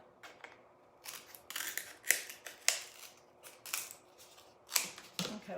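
Scissors snip through canvas fabric in a series of crisp, close cuts, irregularly spaced with short pauses, some strokes sharper and louder than others.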